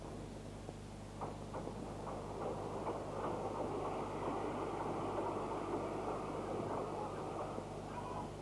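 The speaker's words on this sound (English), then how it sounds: "later a down train arrives headed by Blanche." A Ffestiniog Railway down train hauled by the steam locomotive Blanche arrives at a station, heard as a faint, steady rumble with soft rhythmic clicks and clanks of rolling wagons under a constant low hum.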